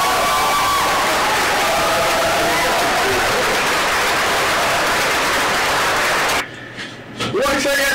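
Studio audience applause and cheering during an interview with a dembow artist, a sustained wash of clapping and crowd noise with talk mixed in, cutting off abruptly near the end.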